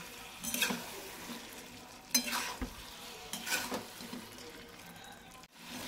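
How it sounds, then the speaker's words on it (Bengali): Vegetables with mustard and green chillies being stirred in a pan, giving three or four bursts of scraping and sizzling a few seconds apart, close and moderately loud with no voices. "এবার খুব ভালোভাবে মিক্স করে নেব।"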